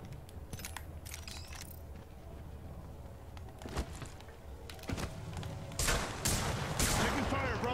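Continuous gunfire in a shooter video game, sharp shots and bursts crackling amid battle noise and growing louder toward the end, with a voice speaking over it.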